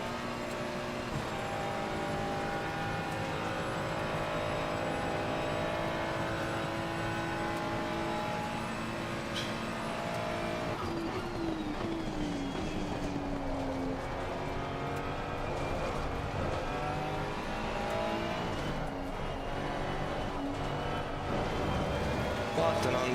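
A race car laps Spa-Francorchamps in a racing video game, its engine a steady, close whine that climbs and falls through the gears over the full stretch, with a continuous background hum.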